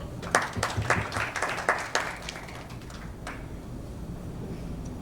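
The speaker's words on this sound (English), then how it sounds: "So let's just clap for each other." An audience at a startup bootcamp claps in a short burst of scattered, moderately loud applause that dies away after about two seconds, leaving quiet room tone.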